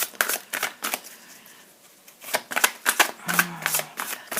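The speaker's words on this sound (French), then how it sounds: "Et à parler, je ne me concentre pas sur les cartes." Tarot cards are shuffled by hand in quick, close bursts of papery riffles and slaps, pausing briefly midway before picking up again.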